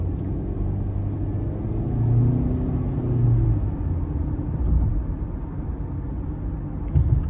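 A 2023 Honda CR-V EX with a 1.5-litre turbo four-cylinder and AWD accelerates out of a corner in normal mode, its engine a steady low rumble that swells slightly as it pulls, heard from inside the cabin.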